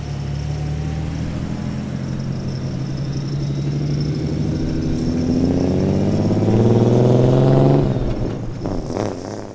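A freshly restored classic Alfa Romeo Giulia GTV engine rumbles nearby at a classic car racing festival, its note building and revving louder before cutting off, with no talk.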